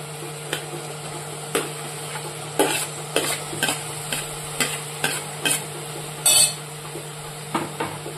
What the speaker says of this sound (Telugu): ఇప్పుడు దోసకాయ ముక్కలు వేస్తున్నాను.